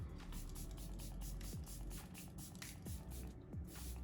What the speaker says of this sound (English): I'm gonna set this all down actually with the e.l.f. setting mist.